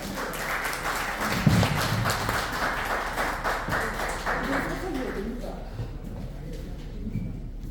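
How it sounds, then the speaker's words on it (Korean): An audience at a political academy event applauds a National Assembly member being introduced, scattered clapping spreading through the room with a person talking over it before the claps fade toward the end. "뜨거운 박수 부탁드리겠습니다"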